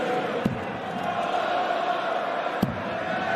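Darts crowd at a 2022 Premier League night on Tyneside cheering for Gary Anderson, a steady broad roar of many voices with a couple of sharp thumps.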